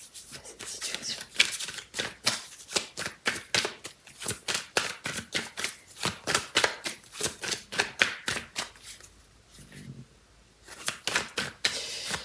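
Tarot cards cut and then shuffled for a reading, a rapid run of crisp flapping riffles close by, pausing briefly near the end before resuming.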